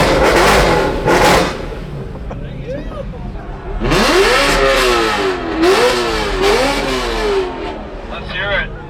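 A boosted Acura TL-S engine heard through a microphone in the engine bay, revving hard in repeated rising and falling sweeps, loud and close, with some broadband whoosh between pulls.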